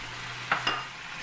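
A spiced chicken gizzard sauté with mustard, pepper and fish sauce stirred in a pan: an even sizzle broken by two quick utensil scrapes near the middle, close and without speech.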